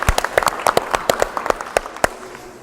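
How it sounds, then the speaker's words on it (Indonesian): A grade 8 class claps together, a short burst of loose, scattered hand claps in a classroom that thins out and stops after a couple of seconds. "Tepuk tangan untuk semuanya."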